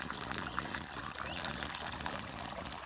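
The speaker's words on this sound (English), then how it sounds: "That is an incredible amount of water." Water pours steadily from a 1.5-inch pipe rising from the bottom of a tank at a spring, a continuous close splashing rush with no talk.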